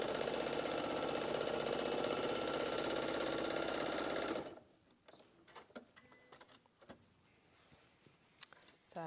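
A sewing machine stitching free-motion quilted roses runs loud and steady for about four seconds, then stops abruptly, leaving quiet handling clicks and small rustles.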